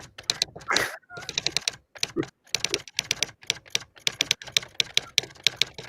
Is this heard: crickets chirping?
no